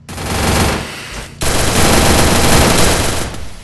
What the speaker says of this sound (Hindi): चलो काफी अच्छे हेडशॉट और डीएमटी यासीन भाई यहाँ पे नॉक एंड फिनिश हो